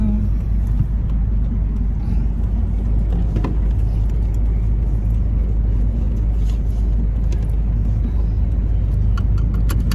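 A car creeps through heavy traffic in Cavite, Philippines, heard as a steady, loud low engine and road rumble from inside the vehicle throughout, with faint voices now and then.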